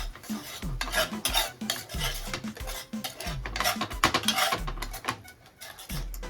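Green pav bhaji being stirred into butter in a pan: repeated scraping, clinking strokes of a spoon against metal in a steady rhythm, close and moderately loud, with a faint sizzle beneath.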